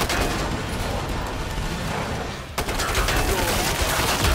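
Gunfire in the video game Killing Floor 2 comes as dense, rapid bursts of shots blending into a constant roar, loud and close, with a sharp crack midway and voices talking underneath.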